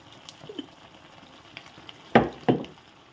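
Mutton and bitter gourd frying in oil, a soft steady sizzle with two sudden louder bursts of crackling spatter close together near the end.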